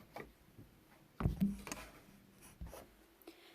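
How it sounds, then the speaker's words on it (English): Tape being pressed onto paper flaps of a 9 by 6 inch mini album, with a few close, quiet scratchy rubs and one louder tap-and-drag in the middle, no talking. "I'm going to add tape to these two flaps."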